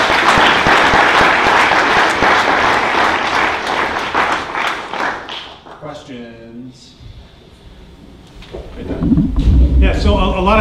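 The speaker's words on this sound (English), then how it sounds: "Live demo, let's give them a round of applause." Live audience at a tech meetup bursts into loud, dense applause after a database demo, the clapping thinning out midway as a voice speaks, then swelling again toward the end.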